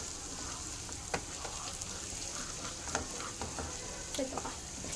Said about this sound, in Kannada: ಜಿಂಜರ್ ಗಾರ್ಲಿಕ್ ಪೇಸ್ಟ್ ಏನು ಹಾಕಿದ್ವಿ ಅದು ಸ್ವಲ್ಪ ಹಸಿ ಸ್ಮೆಲ್ ಹೋಗೋವರೆಗೂ ಫ್ರೈ ಮಾಡ್ಕೊಳ್ಳೋಣ